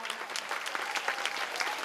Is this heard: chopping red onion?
no